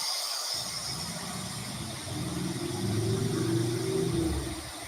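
An engine rumbles past, rising in pitch and loudness toward the end, over steady street noise.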